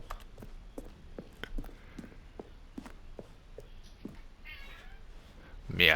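A cat meows in the video game The Stanley Parable, short calls set among steady, evenly paced footsteps, with a louder burst at the very end.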